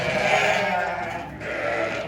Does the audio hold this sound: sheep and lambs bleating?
yes